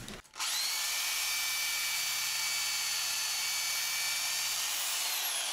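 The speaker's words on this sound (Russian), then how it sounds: "Мы с вами будем использовать перфоратор." A rotary hammer drill cuts a groove in a house wall for electrical wiring, starting abruptly and then running as a loud, continuous, close whine with hammering underneath.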